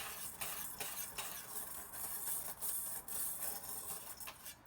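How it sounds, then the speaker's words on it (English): A dry whisk stirring cornstarch and sugar in a bowl, a quiet, close, steady scraping and ticking rhythm with repeated light strokes against the bowl, no talking. "So I'm just mixing it with a dry whisk."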